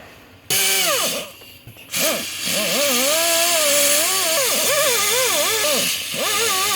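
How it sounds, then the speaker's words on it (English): An air compressor runs during a crusty car battery terminal fix. It cuts in loud after a brief quiet start, then drones on with a wavering motor pitch and one short dip partway through, and no one speaks. "There's the compressor."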